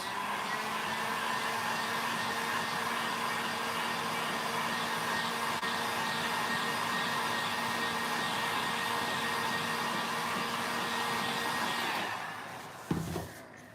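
A hair dryer blows steadily and loudly for about twelve seconds, drying a bronze patina piece up close, then cuts off abruptly with a brief knock as it stops.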